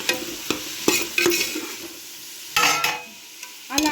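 Veg fried rice being stirred in oil in a pan, loud repeated scrapes and clanks of a spatula over a bright sizzle, close and irregular, with no talk.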